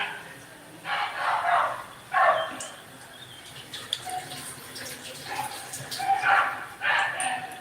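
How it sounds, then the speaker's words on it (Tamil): Many dogs bark from an open ground behind a home kitchen, coming as several bursts of distant, overlapping yaps over the sound of running tap water, with someone talking between them. "பின்னாடி ரொம்ப நா நாய்ஸியாக இருக்குது ஏன்னா பின்னாடி இப்போ கிரவுண்டு நாயெல்லாம் நிறைய இருக்குது"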